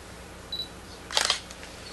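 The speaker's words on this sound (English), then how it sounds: "Let me get a photograph of that." Single shutter release of an SLR camera, a quick crisp mechanical clack with a brief burst of rattling right after, faint and close in an otherwise quiet room with a small click a moment before.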